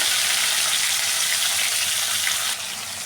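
Ridge gourd and potato pieces frying in hot oil with black cumin and a dried chilli, giving a steady, dense hiss that stays loud and close before easing slightly near the end.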